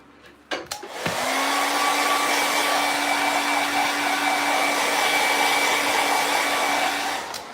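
A hair dryer is switched on after a couple of brief clicks and runs at a steady, loud whine, drying a coat of craft paint, holding constant for several seconds before cutting off near the end.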